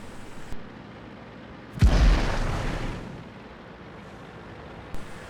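A tank cannon fires in a video game, one loud deep boom that rolls out and decays over about a second, with quiet engine-like ambience before and after and a small click near the end.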